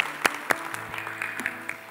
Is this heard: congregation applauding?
yes